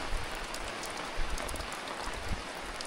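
Steady rain pours down outdoors at an off-grid homestead during the snow-prep season, a continuous dense patter on surfaces with occasional louder drops, close and uninterrupted, with no voices.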